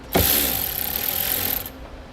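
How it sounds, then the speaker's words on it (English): A 10mm socket on a ratchet loosening the nut on a car battery post of a 2018 Dodge, a close, loud continuous rapid ratcheting whir lasting about a second and a half before stopping. "So we're going to take a 10mm socket and take this nut off right here."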